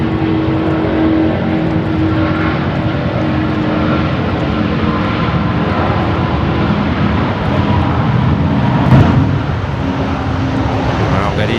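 Qantas jet airliner bound for LAX, heard as a loud, continuous engine roar close by with a brief swell near the end, while people talk over it.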